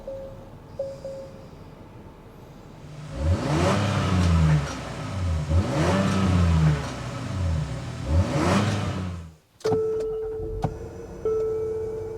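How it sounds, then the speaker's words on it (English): A 2024 Acura MDX Type S or Infiniti QX60 Autograph SUV engine revs up and falls back three times in a row, close and loud. A steady electric whine and clicks follow, with nobody speaking. "start them up, so you can hear that exhaust note."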